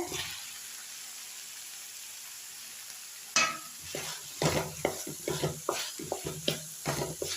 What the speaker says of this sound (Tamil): முள்ளங்கி சேர்த்து இந்த மாதிரி நல்லா கலந்து விட்டுலாம்